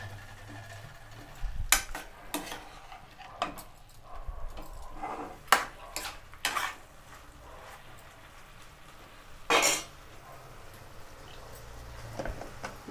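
Mutton fat and liver fry in a pan for a home-style mutton fry, with intermittent spitting bursts and clattering stirs against the metal over a quiet, uneven background.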